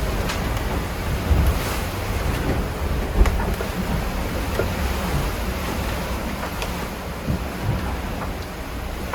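Blustery wind buffeting a sailboat at sea, a constant broadband roar with gusty swells and occasional thumps, loud and continuous with no voices.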